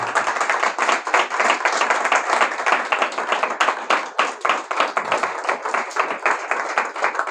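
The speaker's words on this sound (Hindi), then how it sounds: "हम सब प्रभु की महिमा की तालियां देंगे जोर की एक बार।" Church congregation clapping loudly in praise during a sermon, a dense, vigorous burst of many hands with some rhythmic pulses, sustained and close throughout.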